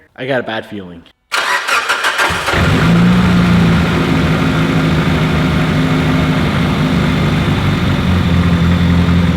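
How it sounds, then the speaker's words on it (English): A Mitsubishi Lancer Evolution VIII engine cranks and catches, then settles into a steady loud idle with a low hum; a voice speaks briefly just before it starts. "Let's fire up the engine and see if the noise disappears."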